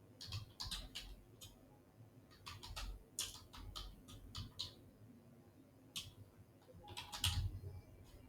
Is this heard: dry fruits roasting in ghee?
no